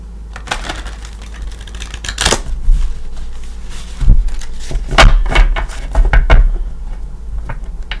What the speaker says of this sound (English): Give it a couple good shuffles again